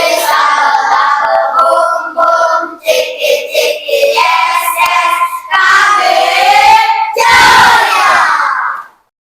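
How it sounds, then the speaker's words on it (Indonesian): A school class chants and claps a rhythmic spirit-clap routine in unison, loud young voices shouting in bursts with sharp claps between phrases, ending in a final shout. "Tepuk semangat."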